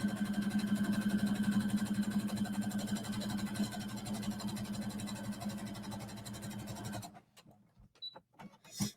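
A sewing machine runs a straight seam on leggings, a steady fast mechanical whir with dense rapid stitching for about seven seconds, then stops, leaving faint handling clicks.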